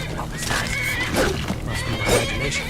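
A horse in the video game Skyrim lets out loud, close neighs and whinnies, with faint hoof clops and a speaking voice in the background.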